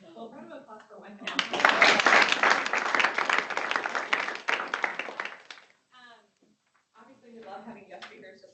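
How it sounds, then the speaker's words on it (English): Audience applause for a guest speaker at a workforce business event, a loud burst of many hands clapping that swells and then fades, with talk before and after. "round of applause for Michael."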